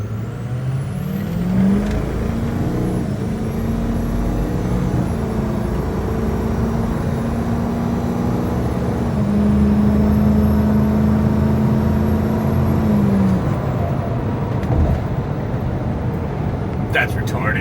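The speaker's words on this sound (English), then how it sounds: "This is our full throttle pull. So we are at a complete stop, full throttle, 0-2." A Ford 6.0 Powerstroke diesel truck accelerating at full throttle from a stop, its engine drone rising in pitch and holding steady under constant road and wind noise before easing off near the end.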